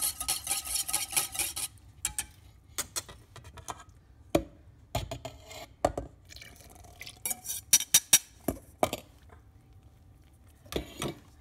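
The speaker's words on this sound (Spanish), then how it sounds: "agregaré los ingredientes secos a los ingredientes húmedos." Dry ingredients stirred into a wet batter in a bowl, irregular close scrapes, taps and clinks of a utensil against the dish, separated by quiet pauses.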